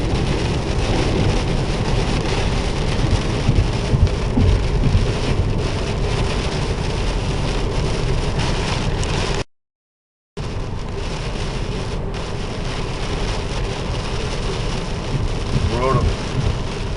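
Heavy rain pours steadily on a Mt Adams hike, a dense, loud, continuous roar of drops with a brief dropout near the middle and no clear talk over it.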